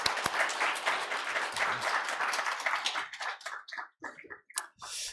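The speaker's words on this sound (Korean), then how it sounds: "뜨거운 사랑과 환영의 박수 부탁합니다" A church congregation claps warmly in dense applause welcoming a pastor, gradually thinning out into scattered individual claps near the end.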